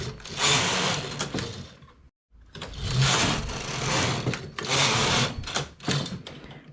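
A knitting machine carriage running rows of thick yarn rattles and whirs loudly in long sweeping passes, broken by a brief silent pause between strokes.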